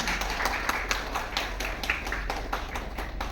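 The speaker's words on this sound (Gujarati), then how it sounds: "ફિલ્મના ડિરેક્ટર સતીશભાઈ ડાબરા માટે જોરદાર તાળીઓ થઈ જાય" Scattered clapping from an audience at a Gujarati film screening, honoring the film's producer and director; distinct claps in an uneven rhythm, moderately faint over a low steady hum.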